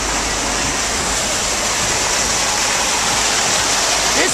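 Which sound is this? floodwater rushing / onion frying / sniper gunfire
floodwater rushing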